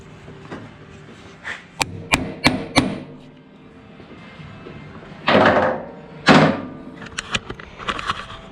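A metal hammer strikes an impact driver four times in quick succession, sharp and close, followed by a few heavier thuds and clatters, during work on a Honda CRF450R dirt bike.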